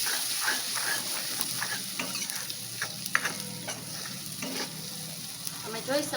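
Kashmiri red chili powder and spices stirred into frying dal with tomatoes, a soft continuous sizzle under repeated spoon scrapes and taps against the pan, close and moderately quiet, no voices.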